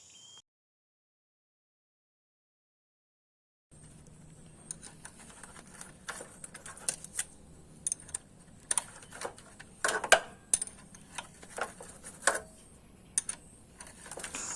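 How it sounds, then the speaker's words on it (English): A ratchet clicks in short irregular bursts while tightening a belt tensioner bolt on a Proton Saga alternator, close and fairly faint over a low hum after a stretch of silence. "I'm going to tighten this belt tensioner bolt first before moving on to the mounting bolts."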